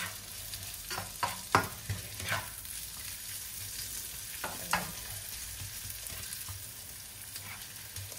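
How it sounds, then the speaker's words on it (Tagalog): Carrots sautéing in a little oil in a pan, a soft steady sizzle broken by several sharp scraping and tapping stirs early on, then settling into a quieter sizzle. "Nagisa ko na yung carrots guys"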